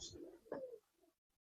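A single soft coo comes from fancy pigeons such as Giribaz and high flyers kept in a loft, faint and brief against an otherwise quiet background.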